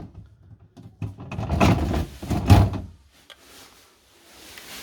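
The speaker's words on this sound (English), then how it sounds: "you can pull the whole drawer out" A fridge-freezer drawer is pulled out in a rolling, sliding rush with two heavier pushes and a clunk near the end, close by, then quiet.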